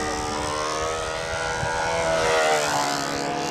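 Rich Oliver's control-line model airplane in a practice flight, its small engine and propeller keeping up a high, steady buzzing whine that rises and falls slightly in pitch as it circles.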